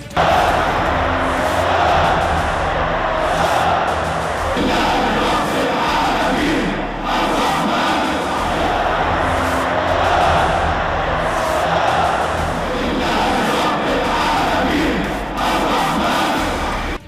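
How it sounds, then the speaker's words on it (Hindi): A dense crowd at a prisoner release roars and chants Allahu Akbar in unison, loud and continuous throughout with surging cheers and scattered thumps. "भीड़ ने अल्लाहू अकबर के नारे लगाए"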